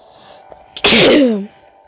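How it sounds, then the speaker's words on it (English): A single loud, close sneeze bursts out of near quiet and trails off with a falling, voiced tail after about half a second, with no talk around it. "Sneeze alert. Watch out."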